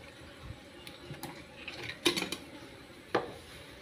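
Scooping fermented fish (pla ra) mixed with roasted rice into containers: faint scattered clinks and knocks of utensils against pots and jars, a few sharper taps, fairly quiet.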